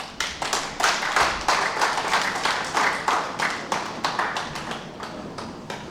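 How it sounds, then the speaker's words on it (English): Conference attendees at a directors of lands meeting clap in a rhythmic, unified beat, each clap distinct and sharp, repeating steadily for several seconds at close range with no speech. "I think they deserve applause, please"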